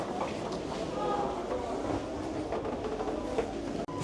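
Hamburg U-Bahn subway train riding on the U1 line, heard from a seat inside the car as a steady, loud rumble and rolling rail noise with a few faint clicks, and no talk over it.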